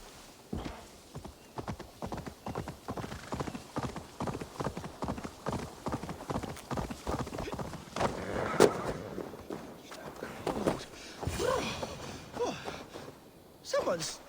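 A horse's hooves plod in a steady clip-clop rhythm in the video game Assassin's Creed Valhalla, close and continuous throughout, while a voice speaks over the footfalls.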